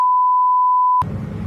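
A single steady electronic tone holds unbroken for about a second as an outgoing phone call is placed, then cuts off abruptly into low, muffled background noise.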